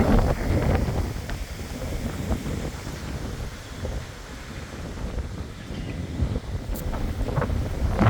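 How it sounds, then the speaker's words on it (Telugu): Strong wind gusting outdoors in Delhi, a steady loud rumble buffeting the microphone for the whole stretch, with no voices. "రెండు మూడు రోజుల నుంచి బాగా గాలి పెడుతుంది"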